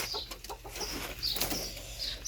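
Hens cluck softly as they are fed wheat grain at home, a scattered run of quiet clucks and brief wing flutters over a faint background hum.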